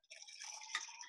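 Half a cup of water poured into a mug for microwave macaroni and cheese, a short faint trickling splash lasting about a second.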